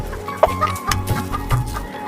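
Hens cluck close by in a farmyard, a few short throaty clucks and squawks spread over a couple of seconds, with no talk over them.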